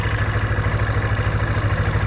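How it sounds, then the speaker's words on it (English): An ATV engine idles steadily close by, with a low, even mechanical rumble and faint clatter throughout, no voices. "the engine sounds great"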